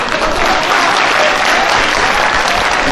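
An audience at an Urdu poetry mushaira in Amalner gives loud, continuous applause, a dense wash of clapping that holds steady throughout.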